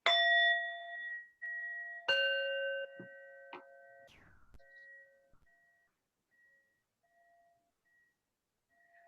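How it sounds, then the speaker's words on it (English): Singing bowls are struck at the start of a Sunday sacred service, several clear ringing strikes in a quiet room whose bright tones hum and slowly fade into long, pure sustained notes. "With the ringing of the bowls, we'll begin our sacred service."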